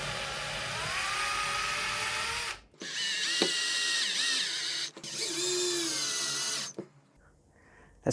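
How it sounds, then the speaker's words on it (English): A drill bores into 3D-printed gears on a Boeing 737 control yoke prototype, whining in three close bursts separated by short pauses and trailing off into quiet at the end. "I am now going to drill the gears here and here and permanently attach them"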